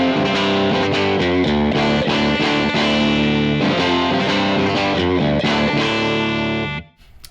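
Distorted electric guitar through a Titan amp model, without the Tim pedal, with a little room sound added: loud, thick, sustained chords played alone, then an abrupt stop near the end.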